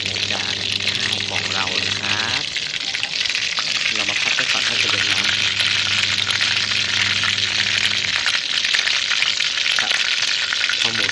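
Pork deep-frying in hot oil, a loud, steady sizzle and crackle that fills the whole clip, close and continuous, with occasional stirring.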